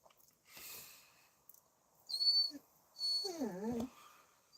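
A puppy whimpers nearby in a few short, high whines and a rising-falling whine, between quiet breathing and faint rustling.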